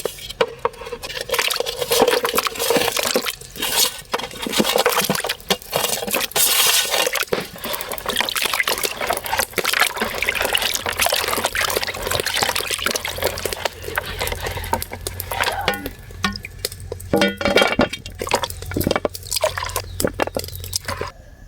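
Seared chicken legs rinsed under a running tap for a spicy chicken leg bhuna, with steady splashing and dripping water throughout, loud and close, joined later by a low droning hum.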